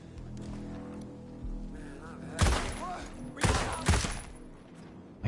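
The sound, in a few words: gunshots in the video game Ghost Recon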